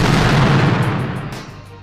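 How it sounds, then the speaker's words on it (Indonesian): A huge fire-skill explosion in an animated martial-arts story erupts as a loud, dense roaring blast that fills the whole clip, its rumble slowly thinning and fading toward the end. "ledakan yang super besar tercipta di sana, membungkus Yi-He dan Chuzhou di dalam kobaran apinya"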